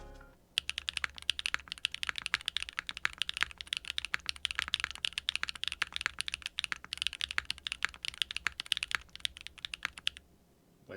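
Dense, steady keystrokes on a custom gasket-mounted 60% keyboard with HMX Purple Dawn switches, aluminum plate, no foams and GMK Expo keycaps, a close, crisp clatter running continuously for about ten seconds and then stopping.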